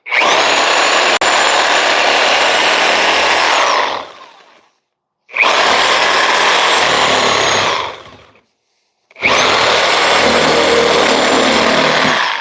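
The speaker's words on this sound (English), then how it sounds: "Now, you're going to have to go Sawzall on this boy." A Sawzall reciprocating saw cuts through the jaw of a carcass in three loud, sustained bursts of buzzing, rasping sawing, each lasting several seconds with short silent pauses between.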